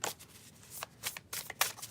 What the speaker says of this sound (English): So one more shuffle.